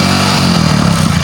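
A motorcycle engine runs close by, loud and steady with a rough mid-range drone and a slight rise in pitch, with no talk over it.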